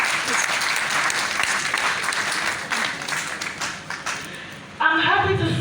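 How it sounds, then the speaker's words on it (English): An audience applauds a professor in a sustained, dense round of clapping that fills the room, easing briefly before a louder burst near the end. "Please, a round of applause for her."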